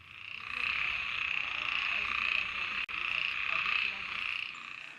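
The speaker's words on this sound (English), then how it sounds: "A group of Malabar gliding frogs mating." Malabar gliding frogs call in a steady, dense chorus in a monsoon-soaked Goa rainforest, a continuous rasping croak that holds for the whole stretch with one brief break.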